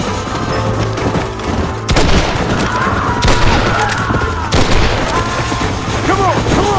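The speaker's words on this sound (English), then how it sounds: "Here they come! Open fire!" A heavy gunfight in the Western game Red Dead Redemption on Xbox 360, with dense, loud volleys of rifle and pistol shots and booming reports, mixed with shouting voices.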